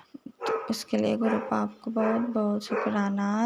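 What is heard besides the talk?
dogs barking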